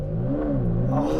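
A Ferrari Enzo sports car engine revs hard in a loud, close, continuous roar that rises in pitch throughout the short burst.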